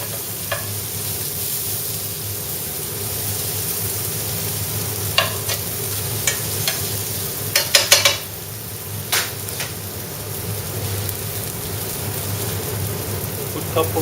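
Shallots, asparagus and pancetta sizzle and crackle steadily in a hot pan, a continuous frying hiss with a few utensil clinks and stirring scrapes partway through.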